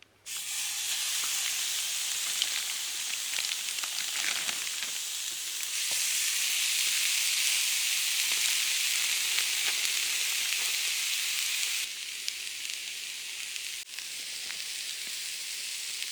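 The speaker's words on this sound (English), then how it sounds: "I'm going to put on the steak. Time for the steak." Steak sizzles steadily in a hot pan over a campfire at a swamp camp, a dense, loud frying hiss that holds and swells over many seconds with small pops and crackles.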